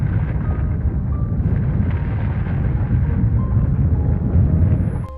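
A heavy, sustained low rumble with no sharp attack, like the rolling aftermath of an explosion, loud and steady for several seconds.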